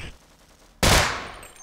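A single loud gunshot blast in the video game Sven Co-op, a sudden sharp burst after a quiet moment that decays over about a second.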